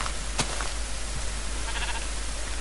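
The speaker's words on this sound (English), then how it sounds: "It's a sheep." A sheep in Minecraft, the video game, gives a short bleat early on, faint beneath a steady low hum. A second, softer bleat follows later.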